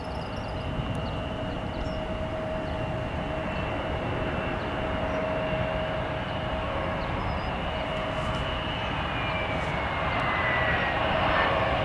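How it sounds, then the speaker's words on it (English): A Cessna Citation jet inbound to Cleveland makes a steady, continuous engine roar with a high whine, loud and unbroken throughout, with no voices. "Cessna Citation inbound."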